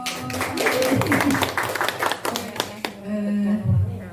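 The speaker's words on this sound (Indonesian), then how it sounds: "Beri tepuk tangan dong." Brief audience clapping in a classroom or training session, a short patter of hands mixed with talking voices and a sung or drawn-out tone, fading out after about three seconds.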